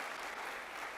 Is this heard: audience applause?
yes